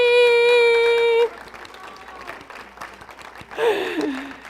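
A church congregation applauds in a sustained burst of clapping, loud and close, joined by a bright held musical tone at the start, then the clapping thins and swells again briefly near the end.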